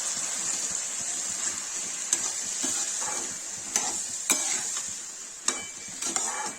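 Peas and potatoes sizzle steadily in a pan while a utensil stirs and scrapes, with occasional sharp clinks against the metal.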